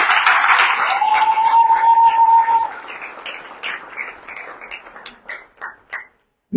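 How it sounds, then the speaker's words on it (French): A church congregation breaks into loud applause and cheering for the Lord, which holds strongly for a few seconds with a sustained tone over it, then thins into scattered claps that fade out. "Est-ce qu'on peut acclamer pour le Seigneur?"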